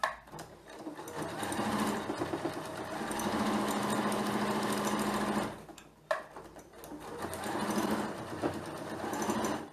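A sewing machine runs close by, stitching around the edge of a bag, its steady rapid whir rattling on for several seconds. The sound pauses briefly, then resumes for a second run of stitching.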